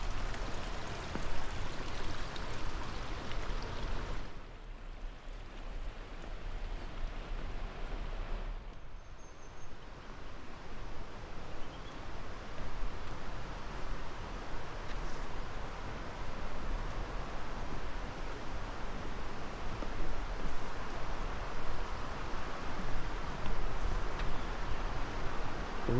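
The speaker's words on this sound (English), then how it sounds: "We're on top of the waterfall, so ooh," Rushing waterfall on a High Sierra hiking trail near Whitney Portal, a steady broadband roar filling the whole stretch, close and continuous, with brief dips in intensity and no talking.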